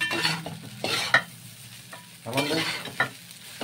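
Roasted chicken pieces fry in a pan, with bursts of sizzling and scraping as they are stirred, plus a few sharp utensil clicks, close and moderately loud.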